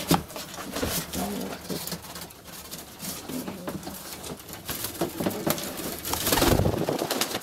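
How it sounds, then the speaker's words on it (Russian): Several pigeons coo softly inside a cardboard box, muffled and close, with shuffling and scratching noises and a low voice in the background. "Ну, он 8 голубей мне дал."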